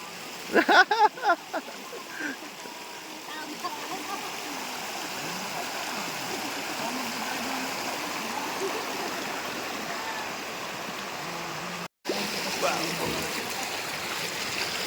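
A mountain stream flows steadily at a riverside campsite near Tanay, a continuous close rush and gurgle of water with a few brief knocks near the start and a short dropout partway through.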